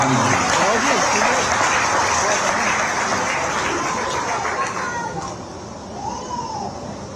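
Loud, sustained applause from a large audience at an evening poetry gathering in Dehradun, a dense wash of clapping that slowly thins out toward the end, with voices and a tonal call rising over it.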